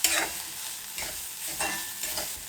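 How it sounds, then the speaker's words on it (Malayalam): Chilli powder and garam masala being stirred in a hot pan for a veg cutlet filling, with soft scraping strokes over a steady low sizzle, alone and close. "ഇതിലേക്ക് 1 ടീസ്പൂണോളം ഗരം മസാല ഇട്ട് കൊടുക്കുകയാണ്. എന്നിട്ട് വീണ്ടും നമുക്കൊന്ന് ഇളക്കാം."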